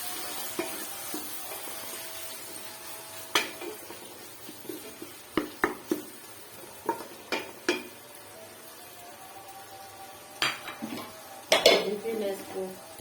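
Three tomatoes tipped into a pot of ginger-garlic base for a desi kaddu chana dal, followed by scattered clinks of a spoon against the pot and a soft sizzle beneath a voice.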